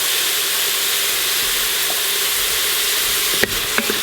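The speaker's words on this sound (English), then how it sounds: "Again, we're just sauteing the onion." Onion sautéing in an Instant Pot, a steady close sizzle and hiss of frying with a few soft scraping stirs near the end, no voices.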